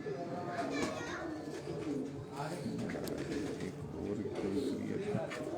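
Pigeons cooing softly in a Lahore loft, with low repeated coos beneath people talking and children's voices in the background.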